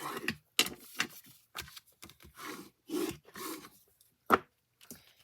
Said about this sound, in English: I'm going to give that a good burnishing.